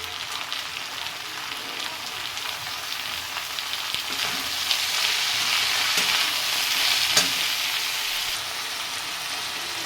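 Radish leaves, added to a fish-head curry, sizzle and fry in a pan while being stirred, giving a steady close hiss with faint scraping and no talk.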